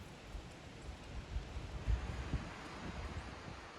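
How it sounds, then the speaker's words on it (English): Wind blows through the gorge at Towering Rock near a bridge, a soft, continuous rushing with light gusts and microphone buffeting. "You can hear the wind blowing through the gorge."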